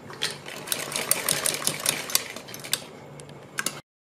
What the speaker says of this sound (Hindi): इसके ऊपर इस तरह से सिलाई लगाएंगे